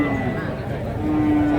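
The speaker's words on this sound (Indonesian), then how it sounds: "Sapi Jawa ya." Javanese cattle at the Pasar Kerek livestock market give a loud, close, drawn-out low moo over faint market background noise.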